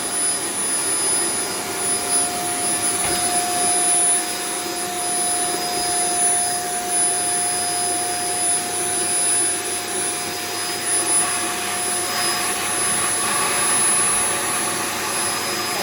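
A steady, loud vacuum roar runs unbroken throughout as it sucks out a blockage from a Potterton combi boiler with an E125 fault, with a thin high whine and faint sucking fluctuations, no voices.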